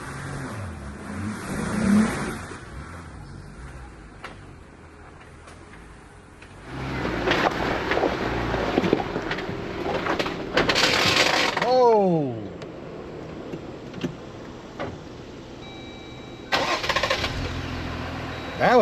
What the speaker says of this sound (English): That was a lot of grinding going on right there.